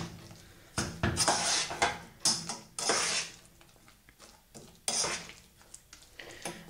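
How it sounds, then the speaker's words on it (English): Coated apple chunks being stirred into pie filling in a bowl, giving several bursts of scraping, clinking utensil-on-bowl noise with short pauses between them, up close and without talk. "And to that, we're going to add in our coated chunks. Just give it a quick mix."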